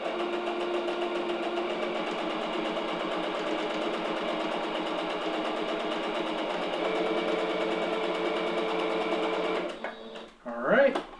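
A sewing machine runs steadily, stitching a quick seam on a simple adjustable elastic skirt, its motor whirring at an even pitch for about ten seconds before stopping, followed by a brief rustle of fabric.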